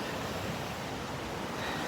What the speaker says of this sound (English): here is the water, and you can see it's still a little rough today